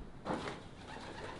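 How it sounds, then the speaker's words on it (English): A pigeon at an abandoned wine farm gives a brief, close coo in a quiet outdoor space. "And that pigeon's having a freak out."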